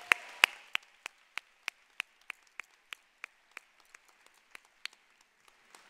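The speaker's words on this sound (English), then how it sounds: "giving a round of applause to everyone who helped us get here" A few people clap in sharp, evenly spaced strokes at a school graduation ceremony, honoring everyone who helped the class, the sparse claps fading gradually.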